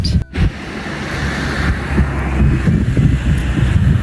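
Steady wind buffeting the microphone outdoors by a lake in Germany, a continuous low roar that swells and eases, with a brief dropout near the start.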